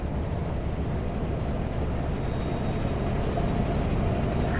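A big rig truck carrying a billboard screen rolls past on an urban street near a bridge, a steady loud engine and road roar filling the scene with a faint high whine rising later.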